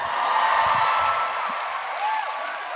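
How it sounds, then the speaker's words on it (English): Dense applause with scattered whoops and cheers from a live theatre audience at a drag comedy show in Norway, loud and steady across the whole moment, with faint voices mixed into the crowd noise. "Please clap."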